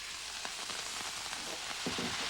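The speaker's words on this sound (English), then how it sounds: "So there are 2 tablespoons of vegetable oil in here, and I'm going to put all the beef in." Minced beef sizzling in very hot vegetable oil, a steady dense frying hiss with a few soft crackles and stirring scrapes, close and moderately loud, no voices.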